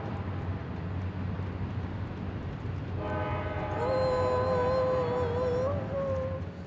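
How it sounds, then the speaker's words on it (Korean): An Alaska train rumbles past nearby, its steady heavy rolling noise filling the scene as a loud multi-tone horn sounds out for several seconds partway through. "여기 알래스카 기차가 지나가서 기차가 지나갈 때까지 잠시 멈췄다 할게요"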